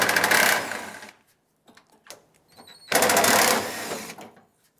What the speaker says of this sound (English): you can use a 10mm socket to unbolt the two nuts that hold the tailgate handle in